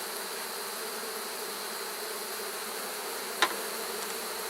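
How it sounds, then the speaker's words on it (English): Bees hum in a steady, even drone around a hive during honey extraction outdoors, moderately loud, with one brief sharp click partway through. "there's just a lot of bees out"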